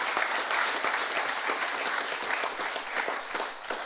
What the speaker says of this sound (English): a big round of applause to you